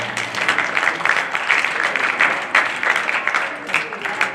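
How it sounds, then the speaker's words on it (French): Lively audience applause at the final of the CACU 2024 quiz competition, close and loud with many hands clapping in a busy, slightly uneven rhythm throughout. "On peut applaudir."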